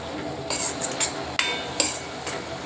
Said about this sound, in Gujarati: થોડી વાર હલાવીશું.